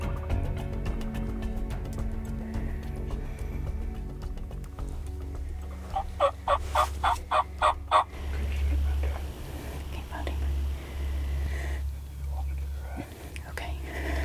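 A wild turkey jake, a bully bird that harasses longbeards, lets out one rapid, rattling gobble in the middle, at moderate distance outdoors. Quiet whispered talk and a low background rumble surround it.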